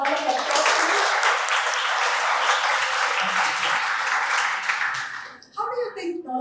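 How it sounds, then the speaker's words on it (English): An audience at a fireside chat breaks into dense, loud clapping that holds steady for about five seconds, then fades quickly as a voice begins speaking. "Can we give her a round of applause, please?"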